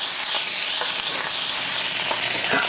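Bacon frying in bacon grease, a loud dense continuous sizzle with faint crackles, close and steady throughout, no talking.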